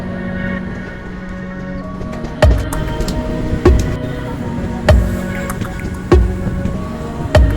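A reserved passenger train on the Tirupati to Kakinada route, leaving Anaparthi, heard from inside: a constant low rumble and hum with sharp, rhythmic wheel clacks over rail joints about every second.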